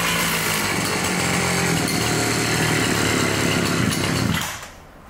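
A free gas-powered impact wrench runs with a loud, steady, buzzing small-engine drone that holds for several seconds and then winds down and cuts out near the end.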